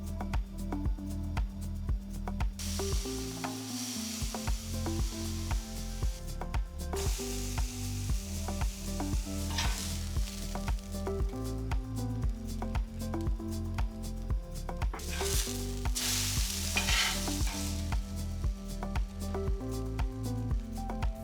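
A burger patty sizzles steadily in a pan of butter, onion, garlic and broth, a continuous close frying hiss with faint bubbling and occasional pops, no talking.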